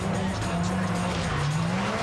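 A Lotus 2-Eleven with traction control off slides into oversteer, its engine droning loud and steady while the tyres squeal through the drift.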